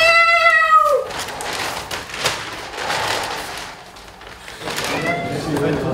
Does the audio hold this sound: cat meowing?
yes